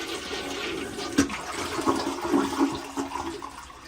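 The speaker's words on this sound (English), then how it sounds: "Let's give it the first flush." A newly installed toilet flushes up close, with a rushing gurgle of water swirling and draining steadily for several seconds and no voices.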